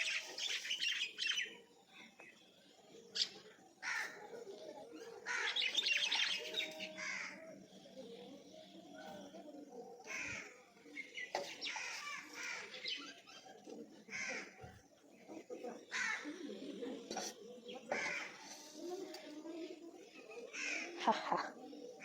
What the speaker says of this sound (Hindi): मैंने चिड़ियों को थोड़ा बहुत दाना डाल ही दिया है।